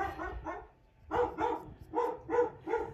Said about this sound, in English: That is Cooper barking at the people across the street.